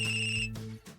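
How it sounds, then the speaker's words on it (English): A cheerful, waltz-like phone ringtone from the video game Hearts & Hexes chimes in sustained melodic tones, loud and close, before cutting off abruptly about halfway through. "Then her phone starts to ring."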